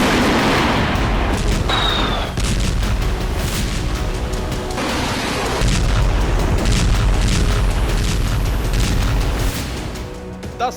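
Heavy, continuous booming of explosions during a Russian bombardment of Ukraine, dense rumbling blasts overlapping one another at loud level with a brief whistling streak early on, no voices.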